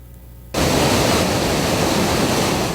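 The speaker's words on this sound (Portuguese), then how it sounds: "O volume de água na usina do Gafanhoto, em Divinópolis, impressiona." Water pours heavily through the Gafanhoto hydroelectric plant in Divinópolis during flooding, a sudden switch from quiet to a loud, constant broadband roar that stays unbroken to the end.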